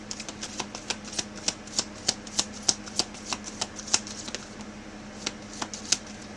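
Tarot cards are shuffled by hand, giving a steady, even train of soft snapping clicks close by, with no talking.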